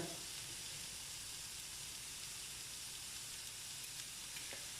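Onion and carrots crisping in warm oil in a pan, giving a soft, steady sizzle and hiss that stays faint and even throughout with no talking over it.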